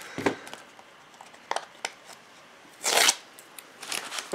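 Tape being peeled off a mail package, a close run of short crinkling rips and crackles at irregular intervals, with a longer tearing burst near the end, quiet and without talk.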